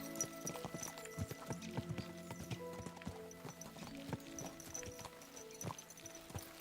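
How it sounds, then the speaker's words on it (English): Horses' hooves clip-clop steadily on the ground in the medieval video game Kingdom Come: Deliverance II, a brisk, rhythmic patter of many hoofbeats at close range with a faint whinny and no talk over it. "Let's really spur these horses on, eh?"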